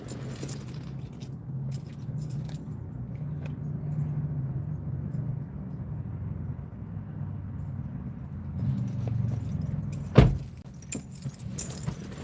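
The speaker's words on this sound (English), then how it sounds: "I might have to move my car a little bit." Keys jangle inside a parked car with a low engine-like rumble underneath, followed by a sharp knock and some shuffling near the end.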